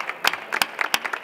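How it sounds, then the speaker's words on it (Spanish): Audience applause at a trade fair stand in IFEMA pavilion 5 during FITUR in Madrid, a short burst of scattered hand claps close by with light crowd murmur. "yo le voy a dar un aplauso a ellos"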